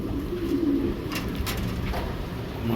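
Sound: pair of English pigeons cooing

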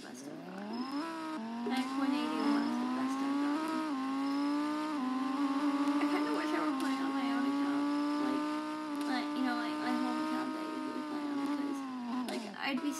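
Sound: Lamborghini Huracan engine in a video game, Driving Empire

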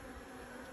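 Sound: honey bees buzzing at a beehive

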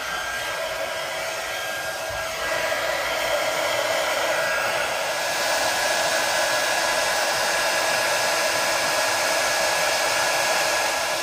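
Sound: heat embossing tool blowing hot air over stamp

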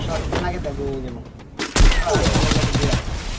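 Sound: sniper rifle gunfire in the video game Free Fire

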